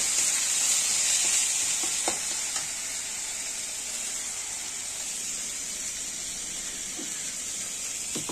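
Pabda fish frying in hot oil, a continuous bright sizzle held at an even level throughout, with a few faint clinks of stirring.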